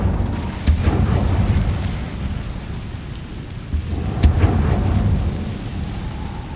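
Incendio fire spell cast in a Harry Potter video game on PS4: a sudden deep whooshing boom bursts out over a steady rain-like rumble of background ambience, with an earlier softer surge.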